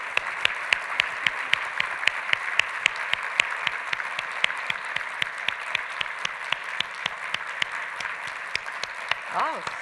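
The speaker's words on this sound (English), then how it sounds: "please join me in a huge round of applause for our" An audience at a closing keynote panel gives the speakers sustained applause and a standing ovation, with steady clapping from a large room that continues evenly throughout.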